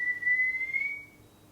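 A single sustained, steady whistled tone from a scene in the Korean film Exhuma, clear and fairly close over a faint quiet background, fading out after about a second.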